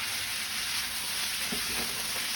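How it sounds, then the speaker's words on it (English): Potatoes and onions fry in oil in a pan, giving a constant dense sizzle with faint scraping as they are stirred, close and steady throughout. "Very first thing I do is I start flipping it, stirring it"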